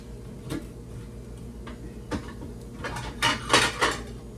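Ceramic plates and dishes clink and clatter as a plate is pulled out from a stack, with scattered sharp knocks that build into a busier cluster of rattles near the end.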